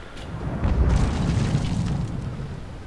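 Double-shotted ship cannon in the Naval Action naval video game booms in a sustained, rumbling low roar lasting a few seconds, loud and alone with no talk.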